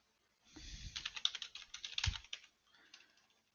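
Rapid clicking keystrokes on a computer keyboard, a quick burst of typing with a short pause before a few lighter taps, close and quiet.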